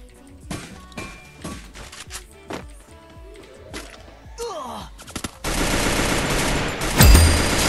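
Gunfire in a mobile shooter game, from scattered single shots and short bursts to a dense, continuous barrage near the end, with a loud close blast at the peak; no speech over it.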